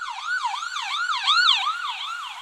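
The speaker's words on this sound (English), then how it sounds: "There's a siren going by." A wailing emergency siren sweeps up and down repeatedly, fairly loud and steady, as a vehicle passes by.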